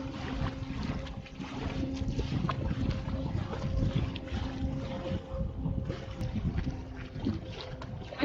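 A homemade wooden mini electric boat runs along a river, giving off a steady low motor drone with water wash and wind buffeting the microphone. The sound is fairly faint and continuous, and no one speaks.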